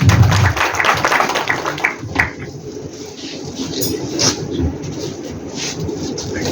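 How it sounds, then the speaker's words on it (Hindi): Audience applause at a political party gathering, a dense clapping wash that swells at the start and carries on with background chatter and room noise. "तो इनके लिए जोरदार तालियां एक और।"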